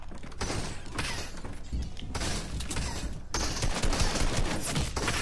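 Rapid bursts of assault rifle fire in an online shooter video game, loud and close, with sharp cracking volleys and impact clatter running almost continuously.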